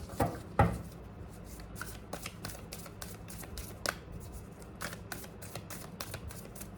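Tarot cards being shuffled by hand, a close, quiet run of rapid riffling clicks and flicks with a sharper snap near the start, no talk.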